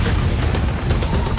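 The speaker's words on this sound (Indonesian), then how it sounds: "Sebuah ledakan bergema di langit" A loud, rumbling boom fills the whole moment, dense and continuous like a big explosion rolling and echoing across the sky, from an animated fantasy series.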